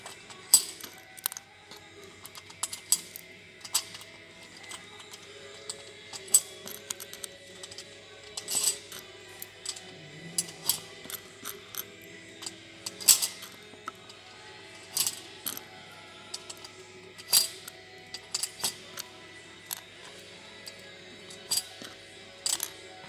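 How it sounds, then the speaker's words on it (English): Plastic curtain gliders clicking back onto a Silent Gliss 3900 curtain track, a steady run of light, close, sharp ticks and small rattles with no talking. "Take the pilot off, then put the gliders back onto the track."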